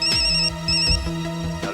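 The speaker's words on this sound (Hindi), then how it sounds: "ये ले, फोन का नाम लिया और फोन आ गया।" A telephone ringtone sounds loud and close, repeating in short electronic bursts with no voices over it.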